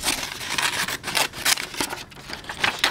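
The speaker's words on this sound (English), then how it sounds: "I'm going to cut, and it's called drawing with scissors" Scissors snip through bright pink paper, cutting an organic shape in a crafting demonstration; a close series of crisp, irregular cuts and rustles over about three seconds, with no talking.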